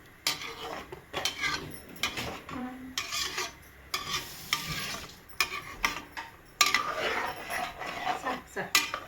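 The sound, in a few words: stirring ghee rice lightly with a spoon in a pot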